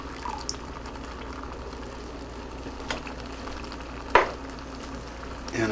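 A big can of tomato sauce is poured into a sizzling pan of spaghetti bolognese base; a steady soft sizzle runs throughout, broken by a sudden wet splash and gurgle near the end.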